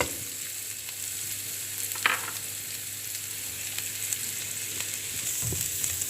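Onion, cabbage and bell pepper stir-fry in a pan with a steady, close sizzle, broken by a few scraping stirs and clinks, with no voices.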